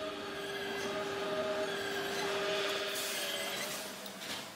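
A shoe factory machine stretches and shapes a leather shoe, giving a steady, loud mechanical roar with a sustained whining tone. It runs alone throughout.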